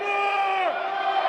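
Crowd at an independent wrestling show cheering between knife-edge chops, a brief sustained roar of many voices with rising and falling shouts, fairly close and loud.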